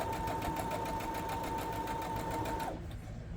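Close, continuous whir of a sewing machine stitching a seam on a quilted pillow top, with a steady high whine that cuts out abruptly near the end, leaving a brief quieter tail.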